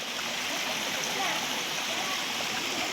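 A stream rushing toward a waterfall in the countryside, with a steady, loud broadband wash of flowing water filling the whole span and no break.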